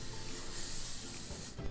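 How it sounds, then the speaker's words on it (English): Canola oil cooking spray hisses steadily from an aerosol can onto a baking dish, one continuous close spray lasting well over a second before it cuts off. "So now I'm going to take this dish and spray it with"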